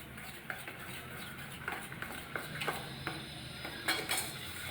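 Rava and egg batter being stirred in a bowl, with soft, irregular scraping and light utensil clicks repeating close by at a steady, quiet level, and no voices.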